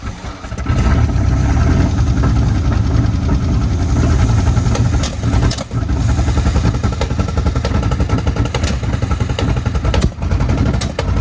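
An old junk vehicle's engine is fired up and keeps running, a loud, rough, close engine roar with clattering, knocking texture and a brief dip midway.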